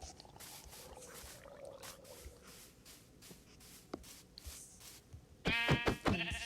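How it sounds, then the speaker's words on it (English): A sheep bleats loudly near the end inside a video game, cutting through a faint backdrop of game clicks and soft ambient noise. "Sheep."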